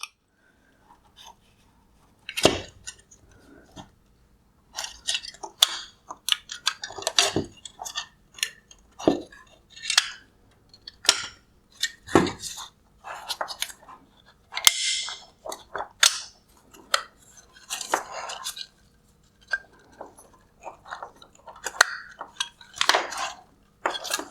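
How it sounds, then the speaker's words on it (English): A small flathead screwdriver prying plastic retaining clips off the LED drive unit cover of a 2016-2019 Mercedes-Benz GLC300 headlight, giving dense runs of sharp plastic clicks, snaps and scrapes, close and irregular throughout. "I'm going to use a small flathead screwdriver to slide in on each side and loosen the clip"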